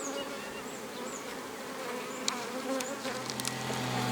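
A dense, steady hum of a honeybee swarm buzzing together on a hive, with individual bees whining past close by against the continuous drone.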